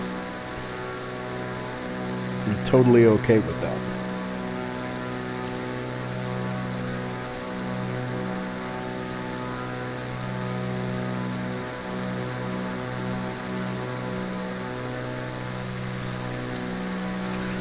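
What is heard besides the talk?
airplane engine in video game Microsoft Flight Simulator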